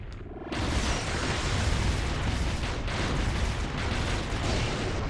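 A boss blowing up in the Shantae: Risky's Revenge game, a loud, sustained rumbling blast of continuous explosions lasting several seconds, with no voices over it.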